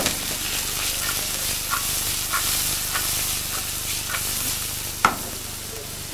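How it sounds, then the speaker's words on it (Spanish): Onion, leek and carrot sauté in a pan with a steady broadband sizzle, punctuated by faint stirring clicks and one sharper utensil tap near the end, with no voices. "lo dejamos que se reahogue bien, que se cristalice la cebolla, el puerro y la zanahoria"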